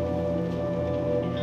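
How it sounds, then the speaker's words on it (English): Rain in the horror video game Little Nightmares 2 makes a brief, soft, steady patter. Sustained low musical tones hum alongside it, and there is no speech. "It's cold outside. Is it snowing? Oh, it's rain."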